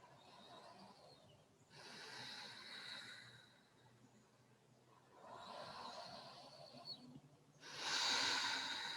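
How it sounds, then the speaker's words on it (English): Slow, deep yoga breaths taken through the nose, three long airy inhale-exhale swells spaced a few seconds apart, close and soft, with no talking. "let's take another 5 long inhales and exhales"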